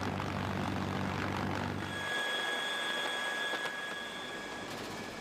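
A CH-53K heavy-lift helicopter flies past, a loud steady engine roar with whining tones that thins as the low rumble drops away midway.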